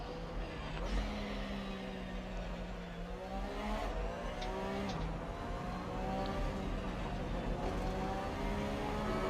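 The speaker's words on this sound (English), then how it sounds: "Porsche 911 RSR." A Porsche 911 RSR race car engine in a racing video game holds a steady droning tone with gear-change shifts, continuous and fairly loud.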